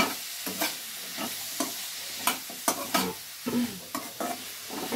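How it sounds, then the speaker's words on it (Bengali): Chicken frying in a single spoon of oil for chilli chicken makes a soft sizzle under a series of irregular scraping stirs and clatters from a spoon against the pan, close by. "এটা একটু ভাজা হতে থাকুক"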